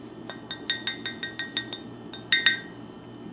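A glass Mexican Coca-Cola bottle with a metal top is handled, giving a run of about a dozen bright, close clinks in an uneven rhythm, two louder taps near the end.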